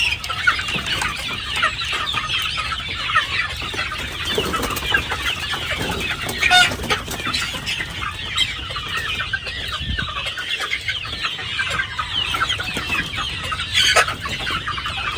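A flock of hatch gray chickens clucks steadily throughout, with busy overlapping calls and occasional louder squawks near and far, set against constant background noise on a farm.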